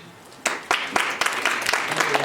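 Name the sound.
applause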